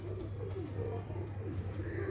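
A fancier's favourite pigeon, of an old bloodline, coos in low repeated rolling phrases over a steady hum, close and continuous without speech.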